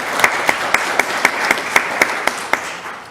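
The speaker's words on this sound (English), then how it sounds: "I applaud y'all for that." Meeting attendees clap together in a steady round of applause at a chapter gathering, sharp individual claps standing out over a dense, even patter that fades slightly toward the end.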